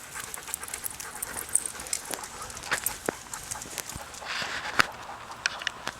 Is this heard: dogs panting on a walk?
yes